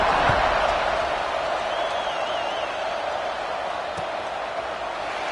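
Virtual stadium crowd in College Football 26 during a Michigan vs Penn State game, a steady loud roar and buzz filling the whole span after a score, with a brief slam-like knock near the end.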